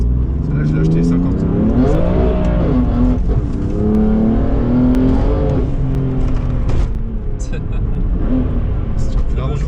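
A 580 hp BMW M3 F80 revs hard and accelerates, its engine note climbing and falling through several sweeps, loud and close from inside the car, with voices talking over it.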